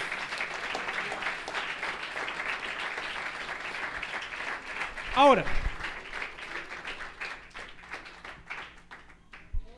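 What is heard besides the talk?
congregation applause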